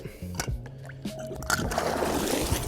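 A BYWTER 1/2 HP sump pump drives water out of a bucket with a rushing, gurgling splash that builds and keeps running, preceded by brief talk and handling noises.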